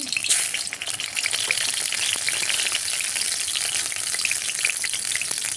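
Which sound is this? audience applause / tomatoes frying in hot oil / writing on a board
tomatoes frying in hot oil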